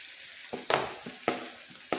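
Grated carrot and tomato sauté in a pan, with a soft continuous sizzle broken by four scraping stirs at a roughly even pace, close by and fairly quiet, with no talking.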